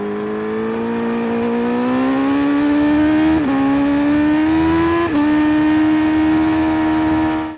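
A 2023 BMW S1000 RR inline-four engine screams steadily at high revs, pitch climbing with two quick dips as gears shift, loud and close with no talking.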